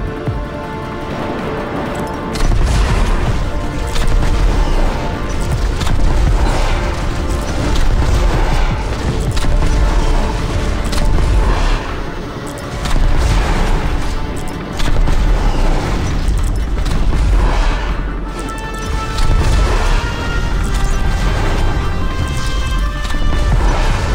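Missile launches in the Redout: Space Assault space-combat game on Nintendo Switch, a dense, loud stream of booming blasts and crashing impacts layered over a constant engine roar and music, with no pauses.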